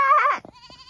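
A goat by a roadside between Baguio and San Juan, La Union, lets out one loud, close, quavering bleat that breaks off abruptly, followed by a fainter, thin trailing cry.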